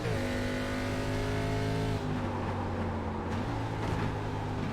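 A race car in the iRacing video game at Richmond, its engine revving and dropping through downshifts into a corner, sounds loud and steady throughout, with shifting pitch and no talk.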